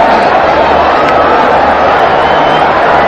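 Stadium crowd at a Pakistan Super League cricket match between Peshawar Zalmi and its opponents roars and applauds in a loud, continuous wash, with a commentator's voice faint underneath.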